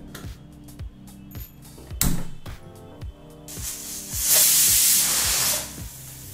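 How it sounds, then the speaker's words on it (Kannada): A pressure cooker on a stove builds to a loud, steady hiss of escaping steam near the end, preceded by several short rhythmic rattles and clicks as a mixed vegetable kurma cooks. "ಈಗಲೇ ಕುಕ್ಕರ್ 1 ವಿಸಲ್ ಬಂದಾಯಿತು."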